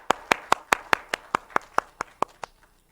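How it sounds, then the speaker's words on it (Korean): Congregation members at a Christmas thanksgiving church service clap about a dozen times in an even, steady rhythm, sharp bright claps that trail off and stop, with no talking. "박수."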